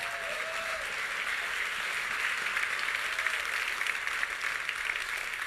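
A church congregation applauds during a sermon, a steady, even wash of clapping from many hands that holds for several seconds at moderate distance.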